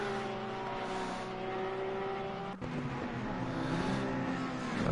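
A Porsche race car in a Welsh-themed livery at Kyalami in the video game Assetto Corsa Competizione, heard from on board as a loud, steady engine drone that changes pitch through gearshifts, with a brief dip partway through.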